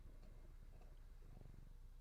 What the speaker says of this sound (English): Oh, she's so purry.